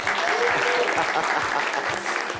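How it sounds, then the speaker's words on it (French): Audience applause for a child at a French variety show, loud and steady, with dense clapping that fills the clip without spoken words. "On peut l'applaudir très très fort."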